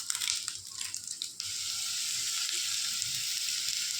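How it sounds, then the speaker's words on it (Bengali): Steady, close frying sizzle of mourala fish fills the clip, a dense crackling hiss that settles into an even tone after a brief busier start. "মোরলা মাছ ভাজা হচ্ছে"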